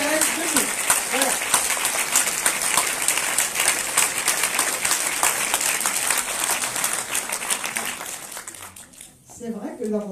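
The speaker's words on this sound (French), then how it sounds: "Je voudrais qu'on les applaudisse." Festival audience applauding at an anniversary celebration for a musical-comedy festival, with dense clapping that holds steady and then thins out near the end as a voice starts speaking again.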